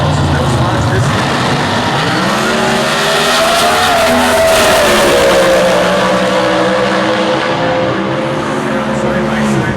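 Comp Eliminator drag cars, one an altered with a 168 cubic inch Toyota engine, launch side by side at the US Nationals in Indianapolis, a loud continuous engine roar with rising pitch sweeps under a commentator's voice.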